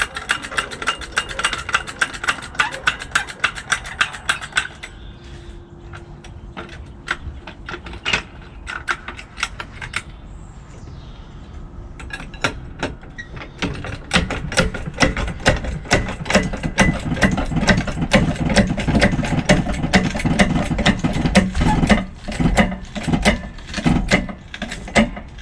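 A jack raises a van at its jacking point at the roadside, giving a rapid run of clicking ratchet strokes that pause and then resume, with a low engine hum of passing traffic rising underneath.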